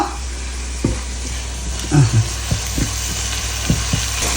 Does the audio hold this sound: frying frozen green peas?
yes